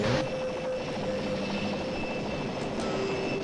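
Whirring rotor and engine drone of an enemy helicopter flying in Operation Flashpoint, a steady mechanical hum with a sustained tonal whine holding throughout, no voices.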